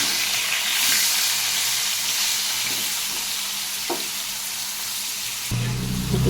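Potato and ridge gourd frying in oil in a pan, a steady loud sizzle throughout with occasional stirring clinks and a brief water-like splash near the end; no one speaks.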